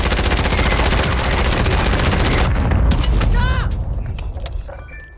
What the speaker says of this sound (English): They just keep shooting at me.